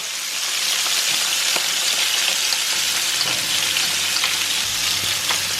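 Salted and peppered scallops sear in a hot pan with a constant bright sizzle and crackle, close and even throughout, with faint pops and no talking.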